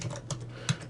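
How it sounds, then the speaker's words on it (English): Keystrokes on a computer keyboard while entering text in AutoCAD, three or four distinct close taps spread irregularly over about a second, with one sharper, louder press near the end. "begin typing in my text"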